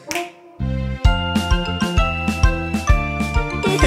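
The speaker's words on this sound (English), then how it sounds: "snap your fingers" Crisp finger snaps land in a steady beat over a bright, tinkly children's song backing, each snap a short sharp click repeated about twice a second.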